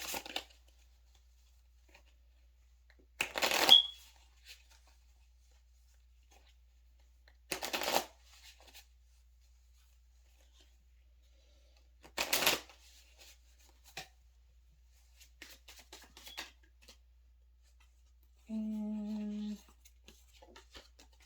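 A tarot card deck is shuffled in four short riffling bursts spaced a few seconds apart, close and fairly quiet, with a brief low hum near the end and no talking.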